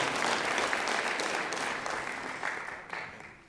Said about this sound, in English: Give a big round of applause for any parents who are hauling drums and all of that stuff.